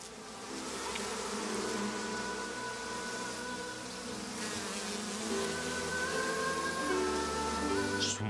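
A swarm of bees buzzes steadily and densely throughout, a continuous close droning hum with no talk over it.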